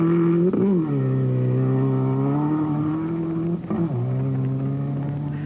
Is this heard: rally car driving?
yes